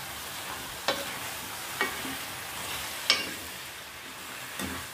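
Spoon scraping through village-style chicken curry with masala in a pan, with four sharp stirring scrapes spaced about a second apart over a soft, steady sizzle.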